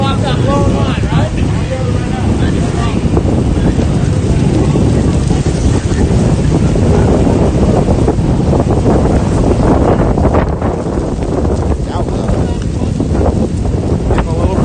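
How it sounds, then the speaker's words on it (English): Strong wind buffets the microphone during a California wildfire windstorm as firefighters work, a loud, unbroken rushing roar that holds steady throughout with occasional gusty surges. "Getting a little breezy."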